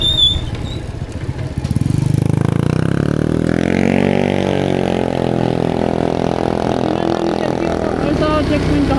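A motorcycle with a loud aftermarket exhaust pipe idles close by after its engine catches, giving a steady, throaty rumble that holds loud and near over several seconds.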